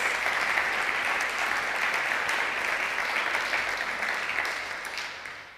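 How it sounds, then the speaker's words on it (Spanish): Sustained applause from a church congregation during a sermon, a dense steady wash of clapping that holds for several seconds and then slowly tapers off. "dar un aplauso al Señor, vamos."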